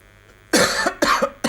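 A football commentator coughs during a European Cup quarter-final first-leg broadcast of Nottingham against Dynamo Berlin, three harsh close coughs in quick succession, loud against a quiet background.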